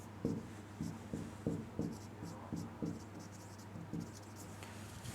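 Chalk or marker strokes on a classroom board during a vocabulary lesson, a string of short scratchy taps about every half second, close and clear over a steady low hum, with no talk.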